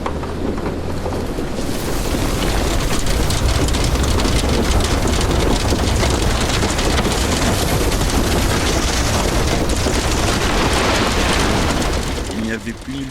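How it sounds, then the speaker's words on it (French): Heavy rain roars continuously as a dense, loud wash of noise, steady and unbroken for most of the stretch before easing slightly at the end. "la pluie s'est transformée en une véritable tornade"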